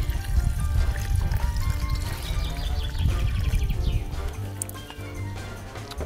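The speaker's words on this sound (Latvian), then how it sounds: "Un lejam buljonu, to pašu, kur vārījās viste." Chicken broth, the liquid the chicken was boiled in, pours into a soup pot, a steady close splashing stream with a low gurgle that runs for several seconds on its own.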